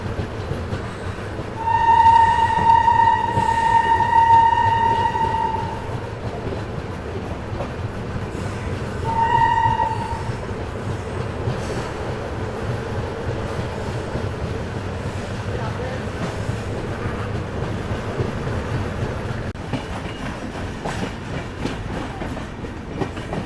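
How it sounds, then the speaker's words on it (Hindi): The Bihar Sampark Kranti Express rolls into Badshah Nagar station in Lucknow, with a steady rumble and clatter of wheels under two long horn blasts, one early and one shorter midway, and faint voices around. "फ़िलहाल अपनी गाड़ी पहुंची है लखनऊ शहर का एक और रेलवे स्टेशन, जो कि आपका बादशाह नगर स्टेशन"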